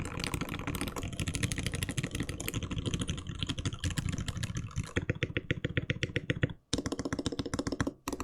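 Fast, continuous typing on a Raindrop prototype mechanical keyboard by Laneware, dense clicking keystrokes close and clear, with brief pauses near the end.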